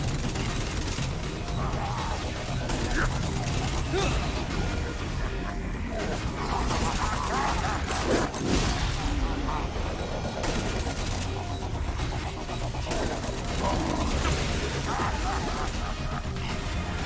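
Two toad launchers firing together in Saints Row: Gat out of Hell, a dense, continuous barrage of loud blasts, bursts and crashes filling the whole stretch amid chaotic game action, with a player's voice now and then.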